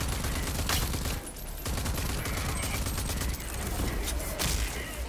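Enemy gunfire in the video game Rage 2, a dense fusillade of overlapping shots and booms that runs almost without pause, loud and close, with a brief lull partway through.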